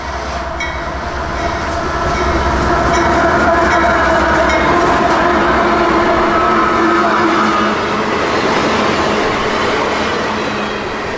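A northbound B207 unit freight train of loaded phosphate cars, running from Mulberry, Florida to Cicero, Illinois, rolls past close by at Ocala with a loud, continuous rumble, wheel clatter and faint squeal.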